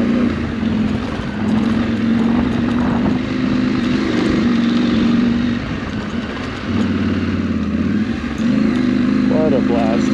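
A KTM 790 Adventure motorcycle climbs a steep mountain pass on the Colorado Back Country Discovery Route, its engine droning loud and steady with shifting pitch and rushing wind noise.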